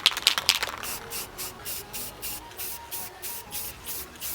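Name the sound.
spraying clear coat on BMW E46 M3 roof rail moulding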